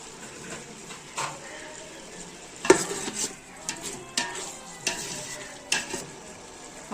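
Mint leaves dropped into a pot of frying chicken biryani with potatoes and coriander: a low sizzle under repeated spoon scrapes and metallic clinks against the pot, irregular and close, with no voices.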